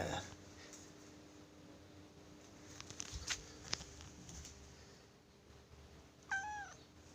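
A cat gives a single short meow near the end, faint against a quiet room, after a few soft taps and rustles.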